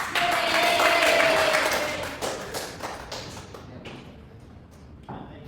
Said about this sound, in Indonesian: Kita tepuk tangan untuk bocah.